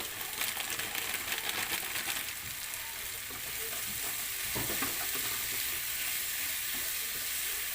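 Cashew nuts sauté in a pan for paneer butter masala, with a constant close sizzle broken by clicking, rattling stirs and a soft knock near the middle.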